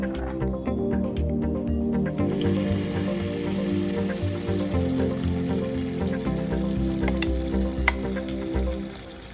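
Malpua batter of wheat flour and semolina sizzles and crackles steadily in hot oil, a dense, continuous frying sound with occasional sharper pops and no voices.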